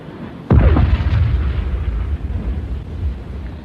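A submarine deck gun fires as a radio drama sound effect: one sudden loud boom, followed by a long rumbling low roar that slowly fades.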